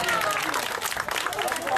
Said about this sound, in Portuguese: Eu queria pedir uma salva de palmas para as meninas que querem.